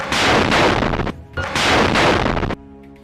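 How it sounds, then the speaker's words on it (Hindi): A rocket fired at an IDF bulldozer in Jabalia, Gaza: two loud, roaring noise bursts of about a second each, separated by a short lull and ending abruptly. "वो उसके सामने जा रहे आईडीएफ के बुलडोजर पर ये रॉकेट फायर कर देते हैं।"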